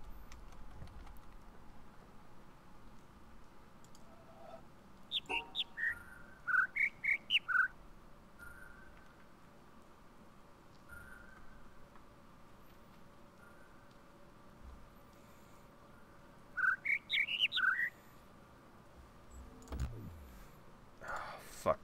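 Birds chirp in the video game The Witness, two quick bursts of bright chirping over a quiet ambient background.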